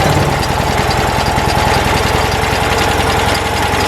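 A 1964 Citroen 2CV's small engine runs steadily close by, a loud rapid chugging beat holding an even idle for about four seconds with no voices.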